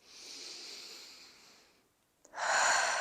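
Slow, deep yoga breaths close to the mic: a long soft exhale that fades to near silence, then a sharp catch and a loud rushing inhale, with no talking.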